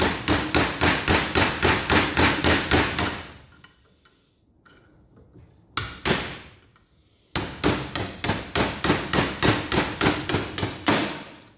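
Hammer driving a flat chisel during a 1962 Land Rover Series 2a restoration: rapid, steady metallic blows close by, a brief pause with a few scattered strikes, then another long run of evenly spaced hits.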